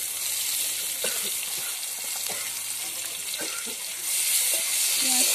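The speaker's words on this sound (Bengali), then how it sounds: "পেঁয়াজটা ভালো করে ভেজে নেব" Chopped onion frying in a pan gives a soft, steady sizzle with scattered light clicks and scrapes of stirring, close and moderately quiet, hissing a little louder toward the end.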